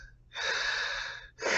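A mouth breather with an overbite pants close and loud: two long, rough breaths with a short pause between, heard alone with no talk.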